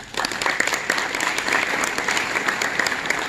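Sustained audience applause at an evening ceremony honoring the Hendrickson Scholarship recipients in political science, dense steady clapping from a full room throughout.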